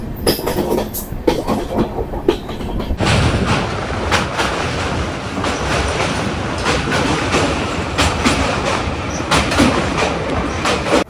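A train runs steadily toward Badarpur station, its wheels clattering over the rails in a continuous, loud rumble with repeated clicks. After a softer opening the sound rises and holds dense and close.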